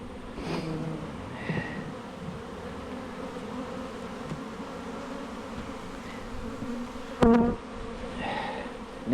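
Honey bees buzz around an open backyard hive during a honey harvest, a steady close droning swarm with a few sharper clunks of equipment near the end.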